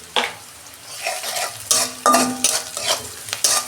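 Onions frying in a pan, with a steady sizzle broken by several stirring scrapes and clinks of a utensil against the metal, close and fairly loud.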